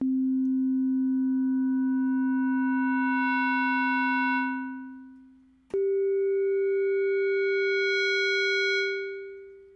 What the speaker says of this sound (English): So we'll hear the inharmonic spectrum fade in.